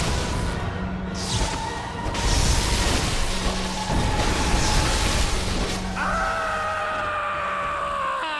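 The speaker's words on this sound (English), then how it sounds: "Very dramatic death scream." A dramatic death scream rings out in a video game amid dense, loud game noise, booming crashes and whooshes, ending with sustained tonal effects.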